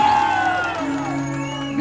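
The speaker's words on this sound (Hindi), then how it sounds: "एक बार जोरदार तालियां।" Crowd at a Holi festival stage show in 2022 cheering and whooping loudly, a steady roar of voices with shouts rising over it throughout.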